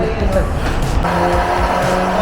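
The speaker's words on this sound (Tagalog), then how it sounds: "Kotse naman yung tinotono nila. May dyno rin para sa kotse, ayun o." A car being ECU-tuned on a dyno at a tuning shop, its engine droning loudly and steadily with rising revs throughout, under a voice talking nearby.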